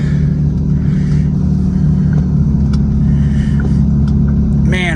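A 1998 Lexus GS300 accelerates with a steady, loud engine drone and low rumble that holds throughout, heard from inside the car with no talking.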